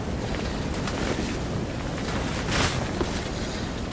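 Heavy arctic wind roars steadily against a tent overnight at minus 31 during a snowstorm, a constant close-miked rush that swells into a stronger gust partway through.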